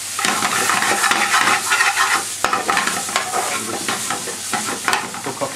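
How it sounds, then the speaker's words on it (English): Garlic ginger paste frying in a pan for lamb balti, a loud, close, continuous sizzle with busy stirring scrapes and occasional sharp utensil taps against the pan. "Cook off your garlic ginger paste."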